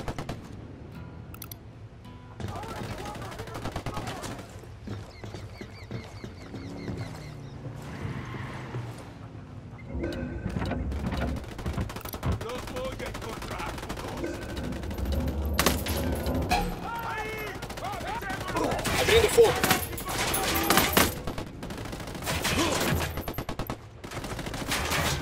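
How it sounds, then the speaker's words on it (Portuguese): Rebels and cartel trading fire in Ghost Recon Wildlands, with bursts of machine-gun and rifle shots mixed with horse whinnies, hoofbeats and game sounds, growing denser and louder in the second half. "Rebeldes trocando tiros com o cartel."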